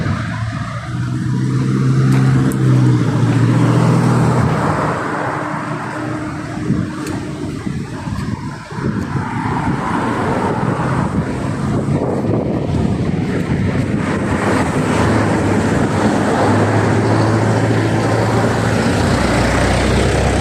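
Busy road traffic roars continuously while someone crosses a street, with passing vehicles and heavy wind buffeting the microphone. No voices can be heard.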